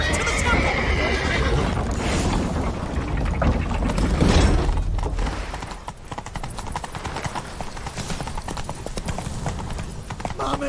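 A horse neighs and its hooves clip-clop in The Witcher 3 gameplay during a tense escape, with game sounds and mechanical clatter in the mix, loud and close before thinning to steady hoofbeats.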